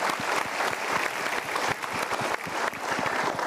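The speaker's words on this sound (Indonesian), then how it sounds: "kita berikan tepuk tangan untuk dia" A studio audience breaks into sustained, dense applause at a motivational talk show, many hands clapping together steadily and fairly loud throughout with no voices on top.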